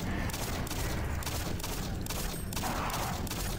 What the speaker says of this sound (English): Oh shit, it's shooting, throwing stuff at me.